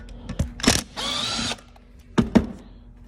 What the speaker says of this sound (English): So what I'll do here first is just take off the T20 screws.